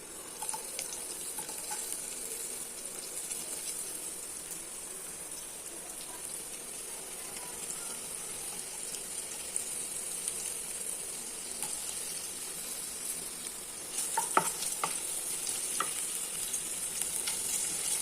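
Sliced onions sautéing in a pan, giving a soft, continuous fry hiss with occasional light stirring scrapes and a slightly louder clatter near the end.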